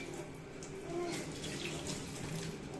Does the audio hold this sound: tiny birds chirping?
no